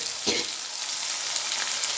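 Green beans frying in a pan with salt, giving a steady broadband sizzle throughout with a brief louder burst near the start, no voices.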